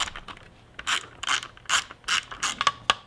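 Close ratchet driver backing out a T20 Torx screw on a Ski-Doo Rev Gen snowmobile during an LED signal light install, a series of short crisp clicking bursts separated by brief pauses, with no voices.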